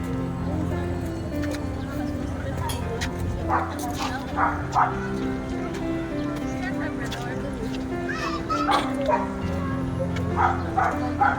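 A Labrador barks several times amid busy outdoor chatter, the barks sharp and moderately close over a steady crowd murmur.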